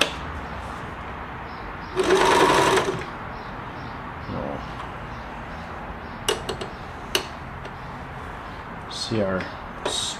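A rusty Euro Pro X 390H sewing machine runs a stretch stitch in a short loud whirring burst of under a second, followed by a few sharp ticks and clicks while a person talks throughout.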